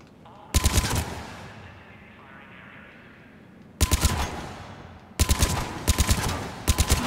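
A heavy-recoil gun fires in Mass Effect 3 in three loud bursts of rapid shots, each burst ending abruptly, with quieter game ambience in the gaps and no talk.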